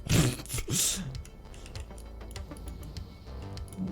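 Rapid keyboard typing on a computer keyboard, a dense run of light clicks that starts loud and busy, then continues as a quieter, steady patter with a faint low background hum.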